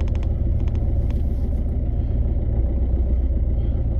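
Ford Fiesta Mk6 with a freshly changed clutch pulling away slowly, a steady low engine rumble and drivetrain hum close by, with a few faint clicks near the start.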